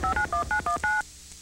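Six quick dual-tone beeps from a telephone keypad are dialed in a steady rhythm, each tone crisp and clear, followed by near silence.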